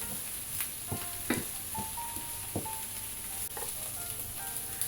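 Beef and okra simmer in a pot, giving a steady soft sizzle with a high hiss and a few brief clinks and scrapes scattered throughout, and no voices.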